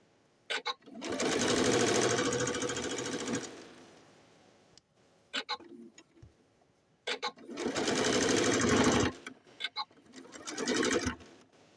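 Sewing machine stitching a doll's chair cover in two long, steady bursts, each a few seconds, separated by short pauses filled with small clicks and fabric handling.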